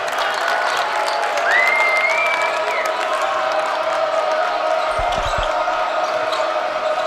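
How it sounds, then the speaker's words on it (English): At a high school basketball game, the student section roars in a steady, dense crowd din with cheering and whoops throughout, a few ball bounces near the end, and no clear talking. "Crowd really getting fired up in that student section for the Vikings now"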